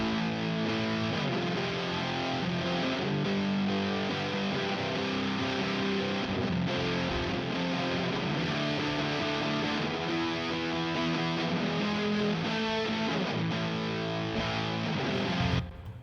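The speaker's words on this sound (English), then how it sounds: "So the main guitar sound is actually from a dual rectifier on the clean channel" Electric guitar played through a Mesa Dual Rectifier amplifier on its clean channel, sustained chords ringing continuously and fairly loud with some effects coloring, cutting off abruptly at the very end.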